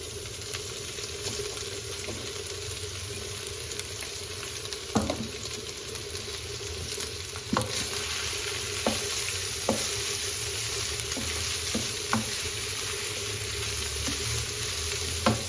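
Chicken frying in a pan with sautéed ingredients for a chicken paratha, a continuous close sizzle broken by sharp spatula scrapes and taps against the pan, no talking.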